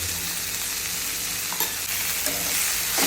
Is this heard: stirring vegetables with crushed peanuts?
yes